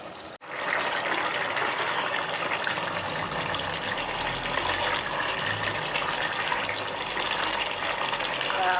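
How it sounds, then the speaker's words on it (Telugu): Chicken masala for a biryani bubbling hard in a pot, a steady, dense hiss of boiling that runs unbroken from start to finish with no one talking. "చికెన్ మసాలా బాగా ఉడుకుతుంది ఇలా బాగా ఉడకనివ్వాలి బిర్యానీ కోసం"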